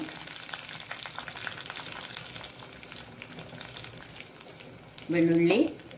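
Mustard seeds and garlic frying in oil for a Tulunadu-style bottle gourd and bimbli sambar, a steady close sizzle with light crackles, then a brief voice at the end.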